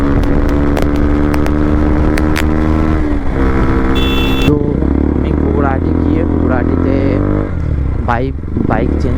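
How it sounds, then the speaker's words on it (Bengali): A motorcycle fitted with an aftermarket exhaust drones loudly and steadily up close during a Haldia-to-Kolkata ride, its throaty note rising in pitch with revs a couple of times amid rushing wind. "বাইকের সাউন্ড কেমন আসছে ভাই"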